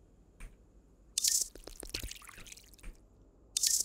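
Water poured onto plants in the video game Drug Dealer Simulator, heard as two short gushing splashes with soft drips and squishy ticks between them, close and fairly quiet.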